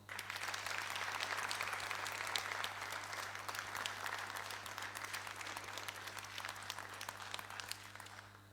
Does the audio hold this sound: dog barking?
no